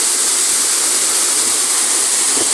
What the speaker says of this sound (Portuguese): Cachoeira Véu da Noiva